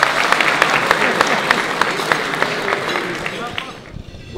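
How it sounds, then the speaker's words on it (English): A dinner audience at an awards gala applauds the sponsors, a dense, steady wash of many hands clapping close and loud, thinning out toward the end. "give them a round of applause"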